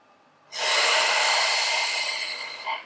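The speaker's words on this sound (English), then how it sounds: "and then take a long breath." Someone draws one long, steady, breathy inhale close to the microphone while holding a lower-back stretch in a home workout. The breath is loud and sustained for about two seconds and stands alone.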